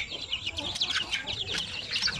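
Native chickens cluck softly and chatter close by, a busy run of short high-pitched peeps and clucks from several birds, fairly faint and continuous.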